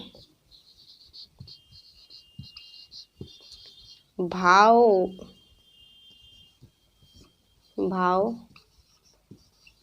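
Chalk writes on a board during a Hindi grammar lesson, with two short squeaky strokes over faint tapping while insects chirp steadily in the background.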